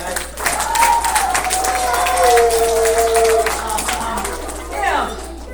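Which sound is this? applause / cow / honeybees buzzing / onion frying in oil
applause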